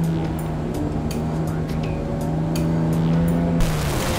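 A race car circles a track, its engine holding a steady, loud drone close by while a few sharper tire and mechanical sounds punctuate it, with a brief surge near the end.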